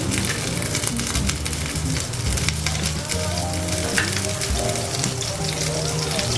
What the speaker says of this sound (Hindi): बटर को जो है वो हम मेल्ट होने देंगे।